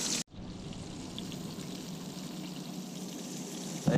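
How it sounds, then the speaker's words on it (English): Walleye and bluegill fillets fry in hot oil, giving an even, continuous sizzle with fine popping, close and moderately quiet, with no one talking. "They are popping, sizzling."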